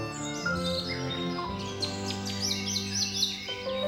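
Several birds chirp and tweet in overlapping quick calls over a steady musical background, fairly close and continuous throughout.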